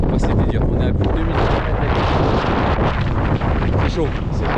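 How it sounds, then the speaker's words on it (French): Strong gusting wind blasting straight into the microphone on a high mountain pass above 2,000 metres on the Tour du Mont Blanc, a loud, continuous roaring rumble with no clear break. "Il y a énormément de vent, je pense qu'on va rien entendre"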